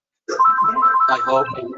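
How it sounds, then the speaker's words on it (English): A mobile phone ringtone plays loud and close, a bright melodic electronic tune that starts suddenly and keeps going, while a voice briefly speaks over it. "That's my phone."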